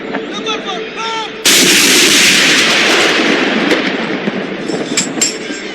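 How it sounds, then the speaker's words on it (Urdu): A 21-gun artillery salute fired in Lahore for Pakistan Day: a loud, close cannon blast erupts and rolls into a long booming rumble, with further sharp reports cracking later, after quieter tonal sounds at the start. "صوبائی دارالحکومت لاہور میں دن کا آغاز 21 توپوں کی سلامی سے ہوا۔"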